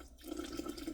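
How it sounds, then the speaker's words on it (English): Rose water pours into sorrel cake batter in a home kitchen, a soft continuous trickle with faint dripping, close and quiet, no talk. "I'm gonna add some rose water to it"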